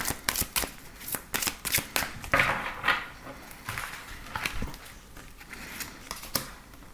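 Tarot cards are shuffled by hand for a reading, with a rapid run of close, crisp riffling flicks and soft slaps that continue in bursts throughout.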